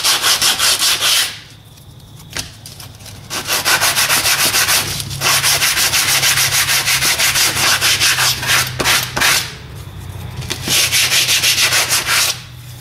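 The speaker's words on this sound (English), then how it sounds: "So grab a piece of sandpaper. And sand the sides of it." Sandpaper rubs back and forth along the sides of a homemade hidden blade, a loud, close, steady scratchy rasp that runs in long strokes broken by brief pauses, with no voices.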